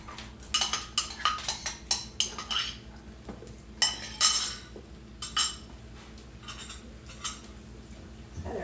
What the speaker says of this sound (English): I'm going to put the zucchini back in